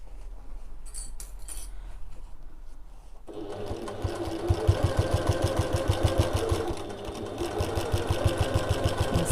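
A sewing machine stitches around the top of an evening bag flap. After a few quiet seconds it starts up, a fast rhythmic motor clatter running close and steady, with brief slowdowns and no voices.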